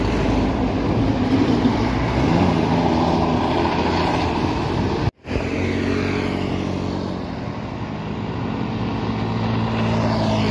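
Two buses, a Sinar Jaya and a Berlian Jaya, pass in convoy on a main road in rural Grobogan; a loud close rush of engine and tyre roar cuts off sharply midway, then returns and fades into a softer receding hum.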